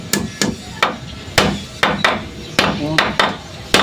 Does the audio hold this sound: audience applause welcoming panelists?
no